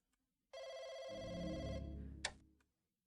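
An old-style telephone ringing in the horror game Firework, a bright sustained ring joined by a lower buzzing tone, then a sharp click as it cuts off, fairly loud and close.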